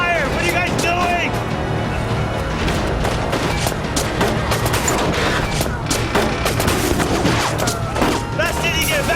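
Dense gunfire in the 1979 Revolution video game, with rapid automatic bursts and single shots crackling without pause, loud and close, while shouted voices carry over the barrage.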